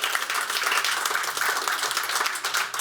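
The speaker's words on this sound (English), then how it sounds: "You can applaud for this, actually." Audience applause from a live talk-show studio crowd, dense steady clapping that fills the whole moment without a break.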